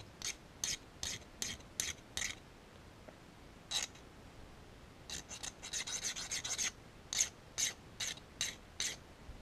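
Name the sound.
metal file deburring lathe soft jaws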